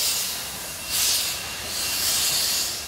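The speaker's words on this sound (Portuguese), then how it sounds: "O trem a vapor, construído ainda no século XIX, ajuda a compor um cenário inesquecível" A nineteenth-century steam locomotive on a tourist line between Jaguariúna and Campinas in São Paulo gives off steady, loud steam hiss and rolling train noise, swelling in two bursts, with no voices.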